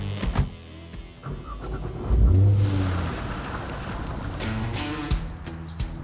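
A Nissan GT-R drives and accelerates, its engine note swelling into a loud, steady roar with a low rumble, heard from inside or near the car.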